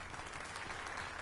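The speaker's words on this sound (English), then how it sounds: "Let us give a round of applause for young Fulvio" An audience in Dragon's Dogma 2 applauds. Steady, dense clapping comes from many hands and carries on evenly, faint and without a break.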